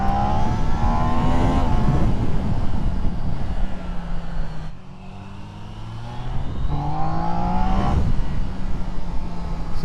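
A Triumph Trident 660 motorcycle accelerates hard, its engine note climbing through loud rising sweeps, easing briefly mid-way before revving up again, close and continuous.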